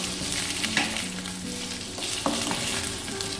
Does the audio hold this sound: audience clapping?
no